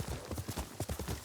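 A horse gallops and jumps in the video game Ghost of Tsushima, with quick, rhythmic hoofbeats clopping close and loud in a steady run.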